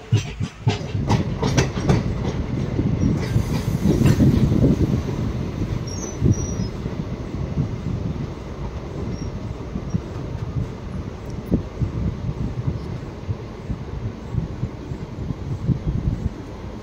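The Coimbatore–Pollachi unreserved special express runs at speed with a loud, continuous rumble of wheels and rhythmic clickety-clack under wind noise. Sharp rail clicks sound near the start, and no voices are heard.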